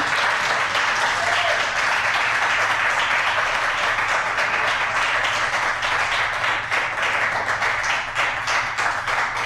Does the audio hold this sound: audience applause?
yes